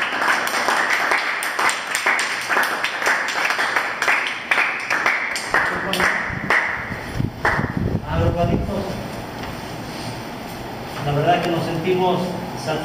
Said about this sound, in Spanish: Les pido un fuerte aplauso por ellos.